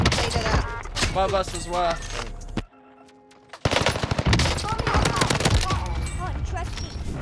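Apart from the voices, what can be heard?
gunfire in Warzone video game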